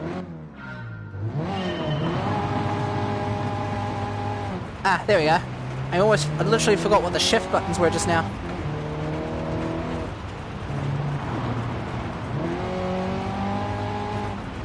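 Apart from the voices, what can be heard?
rally car engine on dirt track, Gran Turismo Sport video game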